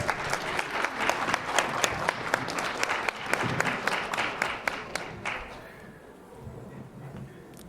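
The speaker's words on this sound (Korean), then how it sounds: "큰 박수 부탁드립니다" Guests at a wedding ceremony in a convention hall give the groom's father loud, crisp applause, then the clapping thins and fades over the last couple of seconds.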